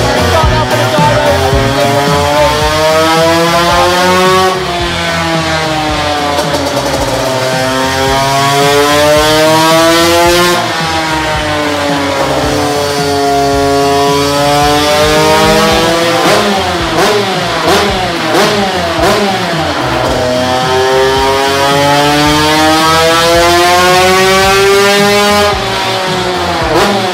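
A motocross bike fitted with an aftermarket exhaust pipe is revved hard on a dyno, loud and close, with engine pitch repeatedly sweeping up through the gears and dropping back in long cycles.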